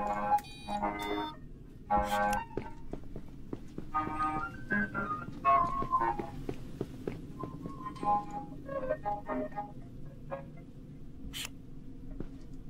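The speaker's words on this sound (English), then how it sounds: "There's a bloody ice cream truck coming on the street." An ice cream truck drives along the street, its tinkling jingle melody faint and distant under steady background noise, with scattered small clicks and taps.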